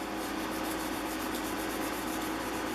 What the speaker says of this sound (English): Now I go back to 3000 on my sanding block to even it out.